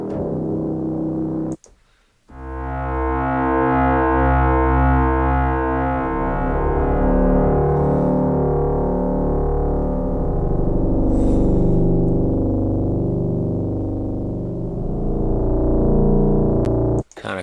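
A sustained synth pad from the Surge software synthesizer, played inside Reaper, swells in loud and holds a low, rich chord with a chorus-like shimmer for well over ten seconds after a brief cut.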